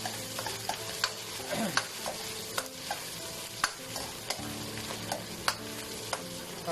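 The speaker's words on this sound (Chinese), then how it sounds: "翻炒调和，蚝油。" Cauliflower is stir-fried with oyster sauce in a wok for a dry-pot dish. A constant sizzle runs under frequent sharp clacks and scrapes of the spatula against metal, at an irregular rhythm.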